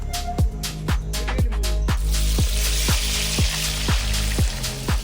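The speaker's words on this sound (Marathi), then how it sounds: "कांदा तळायचं काम चालू झालेलं आहे आणि आता आम्ही कांदा तळून घेत आहोत" Sliced onions fry in oil for biryani, with a regular run of sharp ticking pops that gives way to a steady, bright sizzle, close by and without speech.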